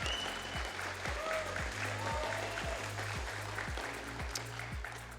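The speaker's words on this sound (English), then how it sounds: "big round of applause for him" Sustained applause from an esports tournament audience at Bellum Gens Elite Stara Zagora 2025, a steady wash of clapping with a low rhythmic thumping beat running beneath it.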